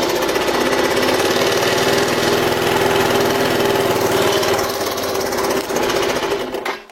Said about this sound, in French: si je mets des gaz avec le starter, ça va pas.